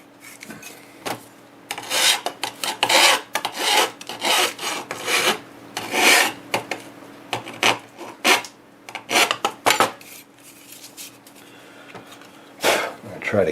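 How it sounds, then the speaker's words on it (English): Hand file deburring the inside edges of a display part, a run of close rasping strokes in an uneven rhythm that thins out toward the end, with a steady low hum underneath. "Just deburring these inside edges."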